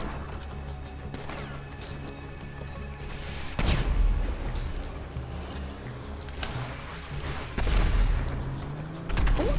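Gunfire in Grand Theft Auto V comes as bursts of impacts and booming shots, with two louder crashing volleys standing out over a steady background of game noise.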